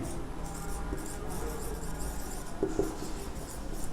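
Marker or chalk writing a molarity formula on a classroom board, scratchy rubbing strokes running steadily with a few sharper taps, close and moderately loud, no talk.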